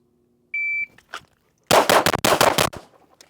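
A shot timer gives a single clear electronic beep, then after a short pause six rapid Glock pistol shots ring out close and loud in a tight burst, drawn from concealment during a timed drill.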